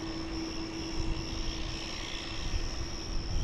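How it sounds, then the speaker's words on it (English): Aircraft engine roar at DFW airport during a takeoff, a steady broadband drone with a constant whine, heard from a distance with no talk over it. "That's a Martin Air 240, clear for takeoff."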